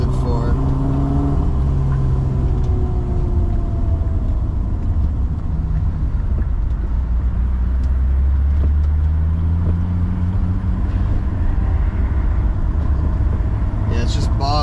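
A BMW E28 with an M30 engine on individual throttle bodies, a full exhaust and a standalone ECU bogs while running extremely rich, a steady low engine drone throughout the drive.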